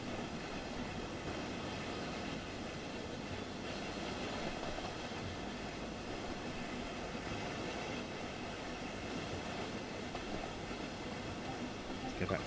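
Train running along the Ruhr-Sieg Nord line in the Train Sim World game, a constant rumbling roll of wheels and engine heard steadily throughout, fairly quiet and unbroken.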